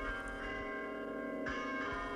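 An ancient elongated bell dating from the year 1000, kept in a small bell foundry in Agnone, rings faintly with a sustained metallic hum and a soft renewed stroke midway.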